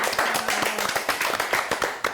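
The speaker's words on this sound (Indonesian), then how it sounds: "Tepuk tangan dulu dong semuanya." A small audience at a Valentine talk show claps for a guest, a light, uneven patter of individual hand claps heard close by rather than a full roar, with a faint tone lingering underneath early on.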